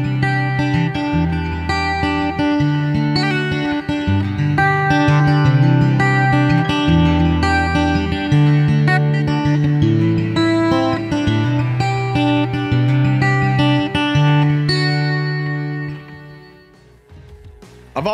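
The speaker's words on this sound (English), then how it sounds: "use the compressor, the EQ, the chorus, and the reverb and delay with my acoustic electric" Acoustic-electric guitar run through compressor, EQ, chorus, reverb and delay, playing a sustained, lush strummed and picked passage that rings on steadily with no voices, fading toward the end.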